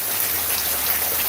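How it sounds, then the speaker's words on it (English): Steady rain pours around a porch, a dense even hiss of drops hitting surfaces close by, continuous and fairly loud with no voices. "it seems like the whole world is raining around me"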